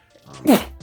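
A single short sneeze bursts out partway through, fairly loud and close, set against a quiet room with faint background voice before and after.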